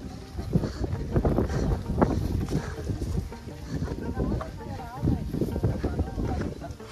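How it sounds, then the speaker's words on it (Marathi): Wind gusts across a fog-covered hilltop at Rajmachi fort on a monsoon trek, a steady broadband rushing that runs the whole time beneath people talking. "वारा आणि धुकं एकत्र आहे"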